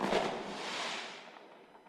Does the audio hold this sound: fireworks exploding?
yes